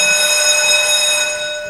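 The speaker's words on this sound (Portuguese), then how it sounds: "toca a campainha" A loud, steady electric bell ringing at a conference, a sustained metallic buzzing tone with no voices over it.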